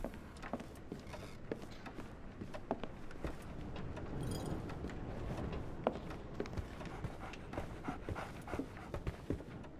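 A dog pants quickly and steadily at close range in the Sherlock Holmes The Awakened remake, its breathing interrupted by scattered footstep-like clicks and light movement, with no speech.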